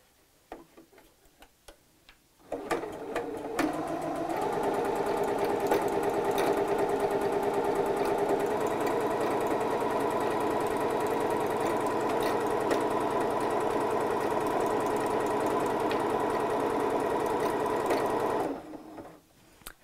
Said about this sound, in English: Right, we'll have the fabric under the machine